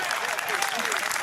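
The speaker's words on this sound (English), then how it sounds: "Why are you clapping?" Clapping breaks out during a golf tournament broadcast, a short burst of many hands under a voice, fairly loud and continuous.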